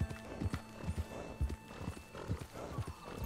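Horses trot in Red Dead Redemption 2 as a herd is driven across open plains, a steady rhythmic clip-clop of hooves with a faint neigh in the game mix.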